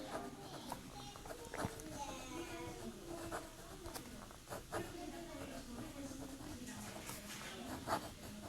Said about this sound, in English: Now, if you like fine nibs, this is a nice pin to use. Let's do a quick writing sample.